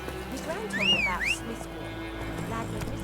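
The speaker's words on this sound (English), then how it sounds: "Just a horse." A horse in The Witcher 3 video game whinnies once, a rising then falling neigh lasting about half a second, over steady game ambience and background noise.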